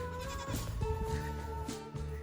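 Goats bleating close by, a couple of wavering, nasal calls overlapping, with no talk.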